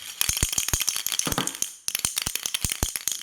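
A spray paint can shaken hard before spraying a model vehicle for weathering, its mixing ball rattling in quick, loud, uneven bursts with a brief pause midway, close by and without speech.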